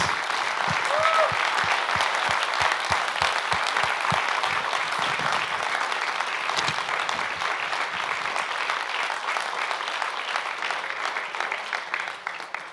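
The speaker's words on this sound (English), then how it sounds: "please join me in a round of applause" Audience applauding the organizers of a university celebration, a dense, steady wash of many hands that carries on for the whole stretch and thins only slightly at the end. A few low knocking thumps stand out near the start.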